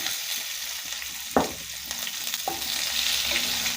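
Onions go into hot oil with dried chillies and bay leaves for an Assamese potato and cauliflower dish. A steady, moderate sizzle runs throughout, broken by a couple of sharp utensil knocks and scraping stirs.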